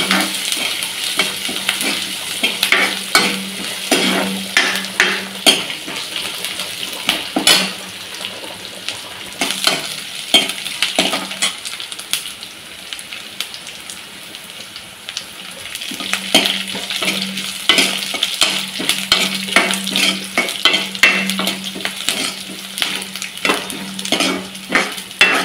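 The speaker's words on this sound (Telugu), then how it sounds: "తాలింపు పెట్టుకుంటున్నాం." Tempering of cumin, mustard seeds, onion and dried chilies frying in oil for a village-style cucumber chutney, with continuous loud sizzling and popping and repeated sharp scraping stirs throughout, no voices.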